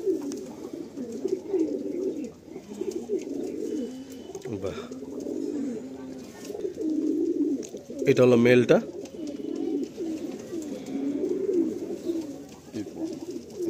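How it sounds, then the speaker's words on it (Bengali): Small, short-sized home-bred pigeons coo softly and continuously, close by on a Kolkata rooftop, while someone talks over them with a brief louder flutter midway. "একদম শর্ট সাইজ পায়রা, ছোট্ট পায়রা একদম।"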